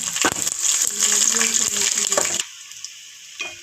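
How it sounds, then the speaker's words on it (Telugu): About ten crushed garlic cloves and three dried red chillies fry in hot oil in a pan, giving a loud, crackling sizzle with a few clinks for about two seconds. The sizzle then cuts off to near silence, with one faint clink near the end. "ఒక పది వెల్లుల్లి చెదకొట్టుకొని వేసుకోవాలండి ఒక మూడు ఎండుమిర్చి కొంచెం ఫ్రై చేసుకుందాం"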